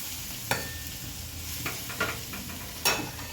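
Capsicum curry with crushed peanuts and coriander stirred in a pan: a soft, low sizzle broken by a few sharp spoon scrapes and taps, close and alone.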